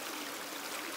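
Steady rush of a waterfall and running water in a natural stream setting at night, a continuous full hiss with no pauses, heard alone and fairly close.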